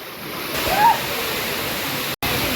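Manche waterfall in Konkan roars as a loud, close, unbroken rush of falling water, dropping out only for a split second near the end.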